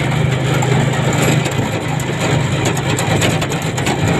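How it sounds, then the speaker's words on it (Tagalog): A motorcycle engine passes along a village road on the way to Banglid, a steady, close, fairly loud rumble that holds through the whole stretch with no voices. "Ayun, may motor pa."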